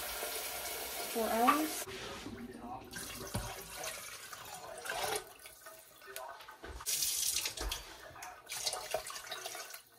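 Water runs from a tap into a slow cooker holding chilies and beans. A short, splashing pour sits close by among other kitchen clatter, and a person speaks briefly.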